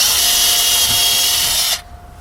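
A power drill whines steadily at high speed for under two seconds while drilling a 1/16-inch pilot hole, then stops abruptly, leaving quiet.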